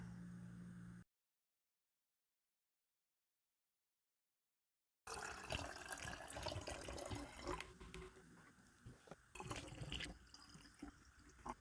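Water poured into a bottle fills it at close range, a steady splashing, gurgling pour that starts after a few seconds of silence and keeps going with some uneven surges.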